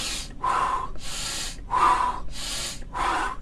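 Deep, forceful breaths in Wim Hof breathing exercise come close and loud, alternating airy inhales and exhales in a steady rhythm of about six breaths, with no talking.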